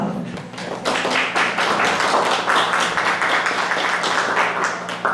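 A hall audience breaks into sustained, fairly loud applause for a speaker at a cultural tribute evening, dense clapping holding steady for several seconds after a brief quieter start.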